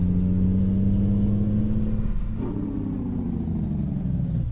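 Peterbilt 389 truck in American Truck Simulator with a loud, steady engine drone, a sharp hiss of air brake released partway through, then the engine rumbling on at lower pitch.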